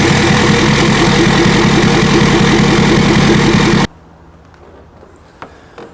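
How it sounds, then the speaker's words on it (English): A Ford Super Duty truck idles through a single 4-inch high-strength steel MBRP exhaust with a 6-inch tip, a loud, steady, deep rumble that cuts off abruptly near the end, leaving faint background noise. "It is a 4-inch exhaust system, single pipe, high strength steel on this."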